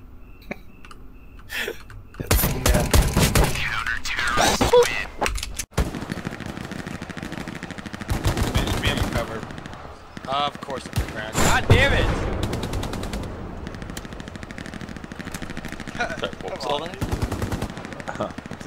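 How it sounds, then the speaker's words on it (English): Video game automatic gunfire in rapid bursts of repeated shots with clicking between them, loud and close, while players talk and react over the action. "hold that button down while you shoot"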